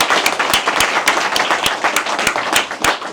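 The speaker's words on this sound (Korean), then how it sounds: "여러분 큰 박수 부탁드리겠습니다." An audience at a Korean political party launch ceremony claps vigorously, a dense burst of overlapping hand claps with sharp individual slaps standing out, sustained and near for several seconds without speech.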